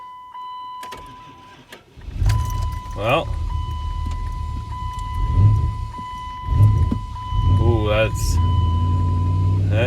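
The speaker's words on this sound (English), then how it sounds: "see if this battery will jump start this little truck" A small truck's engine is jump started from a separate battery, cranking in repeated laboured bursts with a faint electrical whine running through it, while someone speaks briefly.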